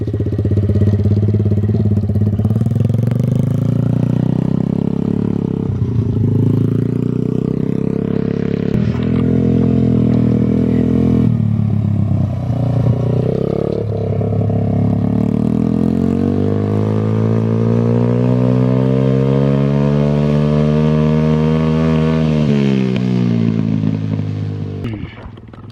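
A Welsh Pit Bike 125cc motorcycle engine runs close by through a long revving stretch, its pitch rising and falling repeatedly before climbing steadily and then dropping away near the end.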